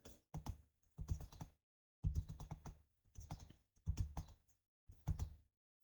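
Computer keyboard typing while entering a spreadsheet cell label, four quick bursts of clicking keystrokes separated by short pauses, close and fairly quiet.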